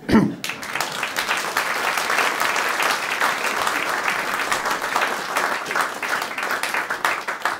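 A cabaret audience applauds steadily, a dense, even wash of clapping that holds at full strength throughout after a brief onset.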